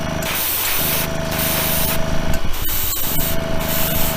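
Paint tack coats are sprayed onto a diecast Lamborghini Centenario model in close, hissing bursts from a spray can, several short sprays separated by brief pauses.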